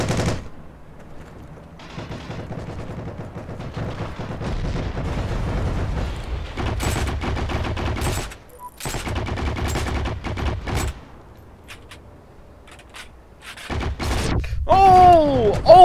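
Gunfire in the online war shooter Heroes & Generals: dense bursts of rapid automatic shots and heavy blasts come loud and close almost continuously, with a brief gap near the middle and rising synthetic whooshing sounds at the end.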